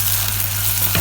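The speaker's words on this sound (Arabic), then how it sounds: "كل ده هديله تشويحه في بعض" Minced garlic sizzles and is stirred in hot oil for a catfish tajine, a loud, dense frying hiss held steady from start to finish with a faint scrape of a spoon near the end.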